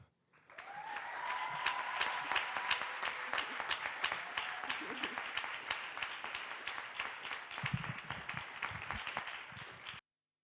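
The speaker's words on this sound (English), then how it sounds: "Let's give her another round of a Lincoln applause." Sustained applause from a crowd at a 2021 graduation ceremony following a speech, dense steady clapping for about ten seconds before stopping abruptly, with faint voices mixed in.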